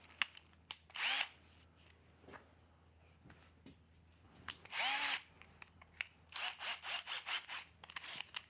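A power drill with a wobbly chuck whirs in repeated short bursts during 1971 Datsun 240Z engine block work, loud and close, with pauses between runs and a quick string of brief pulses near the end.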